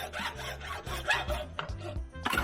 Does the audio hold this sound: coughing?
no